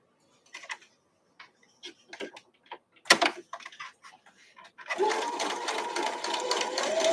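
Sewing machine chain stitching batik quilt blocks: scattered clicks and taps of handling fabric, then a steady close whirring run of stitching that continues to the end.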